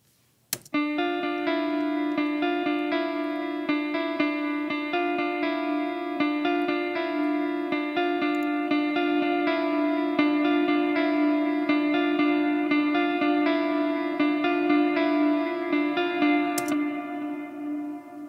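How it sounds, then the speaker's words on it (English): A sustained electric guitar passage split hard across the stereo field, one side dry and the other a saturated, effected send, with steady ringing harmonics and one sharp attack at the start and near the end, played alone without talk. "what you heard there was a dry guitar on the right and a wet guitar on the left"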